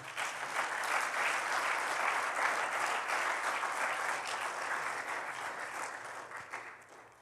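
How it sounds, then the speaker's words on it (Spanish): A church congregation breaks into sustained applause, a dense, even wash of clapping from many hands that holds steady and then tapers off toward the end. It sounds moderately distant and carries no speech. "Denle un aplauso a Cristo."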